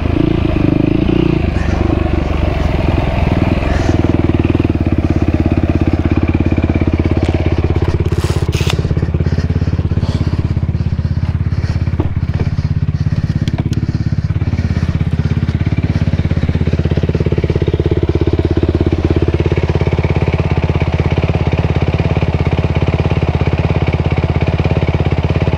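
A Yamaha YFZ450R ATV runs on a rough motocross track, its engine droning loud and continuous throughout, with clattering and rattles from the bumpy ride riding over the steady roar.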